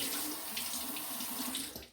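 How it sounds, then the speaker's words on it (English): Water running from a bathroom sink tap during a head shave, a steady close splashing stream that continues throughout and tapers off at the end. "Run some of the water real quick."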